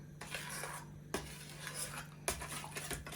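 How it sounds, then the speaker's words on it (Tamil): Grated coconut is mixed by spoon into palmyra fruit paste in a bowl for Jaffna-style palmyra paniyaram. Soft scraping and a few sharp clinks against the bowl sound at close range, with no talk. "இப்போ இதை நல்லா கலந்து விடுவோம்."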